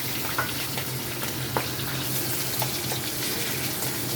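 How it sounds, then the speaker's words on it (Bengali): A fish head fries in hot oil, producing a steady close hiss and bubbling sizzle with scattered small pops, continuous and even throughout, with no speech. "প্রথমে তেলটা গরম হোক মাছের মাথাটা ভাজি"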